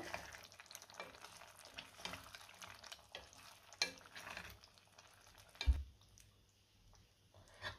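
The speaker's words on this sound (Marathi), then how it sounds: "आता यामध्ये आपल्याला पनीर घालायचे आणि हे सगळं व्यवस्थित मिक्स करून घेऊया" Paneer is stirred into a dhaba-style masala in a pan: a soft sizzle runs under scraping spoon strokes and scattered clicks, with one sharp knock partway through before the sizzle quiets.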